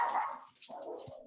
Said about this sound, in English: Igor barking?